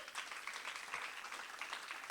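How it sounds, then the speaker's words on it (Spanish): A church congregation applauds their pastor's praise of them, a steady wash of many hands clapping at moderate volume throughout, with no talk on top. "Dese un aplauso."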